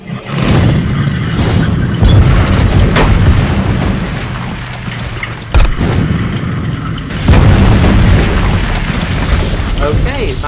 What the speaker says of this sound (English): And now the tank takes some shots at Saint Lolo's army